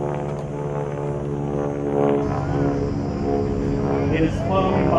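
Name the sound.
aircraft flying over at Victory in Japan day anniversary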